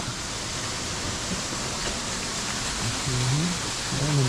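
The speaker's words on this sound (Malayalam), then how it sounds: "നല്ല മഴ പെയ്തുകൊണ്ട് തന്നെ ഗുഹ" Heavy rain falls near forest caves as a steady, even hiss filling the background, with a voice briefly audible toward the end.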